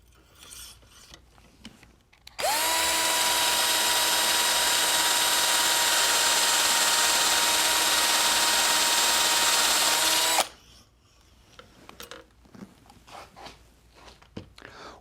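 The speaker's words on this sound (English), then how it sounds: "drill the hole in the far cortex" A surgical drill bores a hole through the far cortex of bone during interlocking screw placement, a loud high-pitched whine running steadily for about eight seconds between quiet handling noises.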